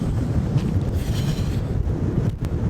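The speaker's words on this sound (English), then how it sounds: "Oh, the wind is just piercing." Cold, piercing wind roars steadily across the microphone high up on an open road in Europe, a constant low buffeting rumble with no voices.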